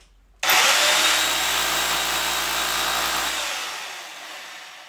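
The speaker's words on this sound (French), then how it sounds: "Je mets la mèche de 6. Et je perce à 6." An electric drill with a 6 mm bit bores a hole into brick while fitting a curtain rod, starting abruptly into a loud steady whine that holds for about three seconds, then winds down, close up with no talking.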